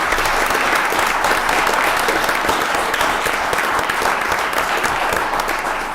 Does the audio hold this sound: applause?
yes